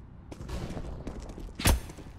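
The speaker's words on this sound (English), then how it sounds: "Throwing flashbang." Flashbang grenade going off in a first-person shooter game, a short sharp bang late in the moment after some dull game noise.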